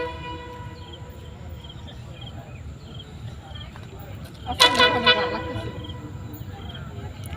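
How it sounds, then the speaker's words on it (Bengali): A train horn sounds at a rural Bangladeshi village crossing, rising over steady ambient noise for about a second as a short, bright blast, with outdoor background rumble before and after. "ওই যে হরেন দিতেছে।"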